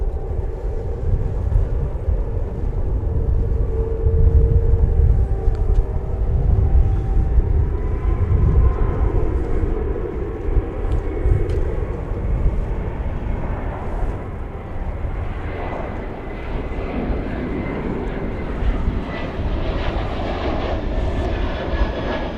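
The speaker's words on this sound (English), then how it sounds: "So we've got a flight from Tucson coming in, an Airbus A321." An Airbus A321 arriving at DFW Airport on a sunny afternoon roars steadily and loudly, its engine rumble and whine sustained and slowly shifting in pitch as it passes.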